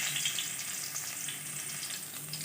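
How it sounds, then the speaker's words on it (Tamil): Mustard seeds and chopped onion sizzle in hot oil in a pan, a steady, close crackling hiss with no voices. "கடுகு 2 போட்டுடுறேன். நெக்ஸ்ட்டு வெங்காயத்தையும் போட்டுடுறேன்."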